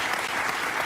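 Brief burst of audience applause, steady dense clapping from a crowd throughout.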